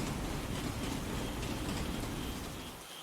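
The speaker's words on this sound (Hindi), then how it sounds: "थोड़ी थोड़ी बारिश की बूंदें गिर रहा था" Light rain falls at night near a station, a dense, even hiss of drops on surfaces that stays steady throughout and fades slightly at the end, with no voices.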